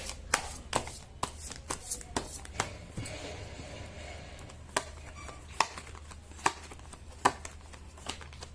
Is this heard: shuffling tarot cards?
yes